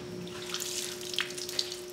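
Leftover water poured out of an ice container from a cold compression therapy system, a steady close splashing trickle with a few brighter drips near the end, no talk.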